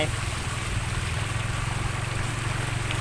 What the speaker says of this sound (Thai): น้ำไหลครับน้ำไหล